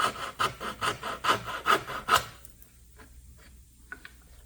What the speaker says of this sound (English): So take your saw, the bottom part just cut straight off.